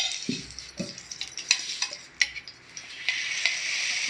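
An egg masala omelette frying in a pan gives a quiet sizzle, broken by soft scraping and stirring clicks of a utensil, with the hiss swelling toward the end.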